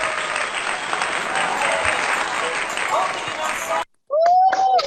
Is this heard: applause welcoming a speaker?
yes